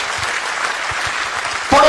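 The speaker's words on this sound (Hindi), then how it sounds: "अब बजाओ ताली इस बात पे, अब बजाओ ताली।" Audience applause at a motivational seminar, a dense steady wash of many hands clapping, loud and sustained throughout with a brief voice or whistle near the end.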